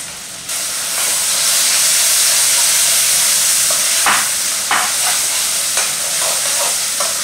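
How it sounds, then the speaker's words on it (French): Crushed fresh tomato added to tomato sauce already sizzling in a pot for fonio gras, a loud steady frying hiss with a few sharper splashes and bursts near the end, no voices. "je vais venir écraser une tomate fraîche et puis je vais rajouter sur ma sauce tomate"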